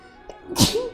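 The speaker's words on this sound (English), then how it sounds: "Sneeze on stream." A single sharp sneeze, close and fairly loud, with a short breathy intake just before it and no talking.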